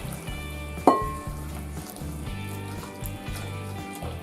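Boiling water poured into a hot pan of olive oil on medium heat while cooking lamb tagine sets off a sharp, loud sizzling burst, which settles into a steady, softer frying hiss over a continuous low background.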